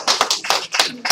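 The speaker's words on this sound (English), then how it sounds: "yeah, you can clap, thank you." A handful of audience members at a candidates' meeting in Cobourg clap briefly, about half a dozen distinct, uneven claps close by in just over a second.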